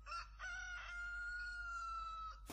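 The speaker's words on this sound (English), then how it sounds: "Wait a minute, was that a fucking rooster I just heard?" A rooster crows once in a film scene, a drawn-out clear call held for about two seconds over a low steady background hum.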